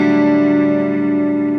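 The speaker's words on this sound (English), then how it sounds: "you ended up with a chorus effect on your echo" A Line6 Pod HD 500 effects unit sustains a held guitar tone through a delay with chorus modulation on the echo, producing a loud, steady, shimmering drone that rings on evenly without any break or talking.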